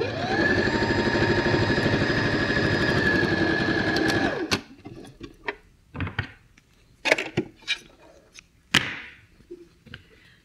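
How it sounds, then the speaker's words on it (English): A sewing machine stitches two layers of fabric for a doll's tunic, running steadily and fairly loudly for about four seconds before stopping, followed by scattered clicks and handling noises as the fabric is adjusted. "make sure that you are only sewing the two layers together that you want"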